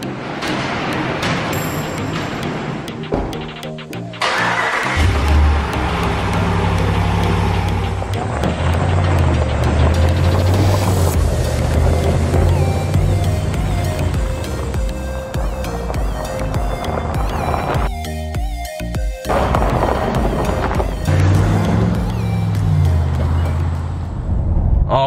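A stock 2019 Ram pickup truck drives on the road, its engine humming steadily at cruising speed with rising and falling drone, road and wind noise in the cab, and a brief dip around the middle.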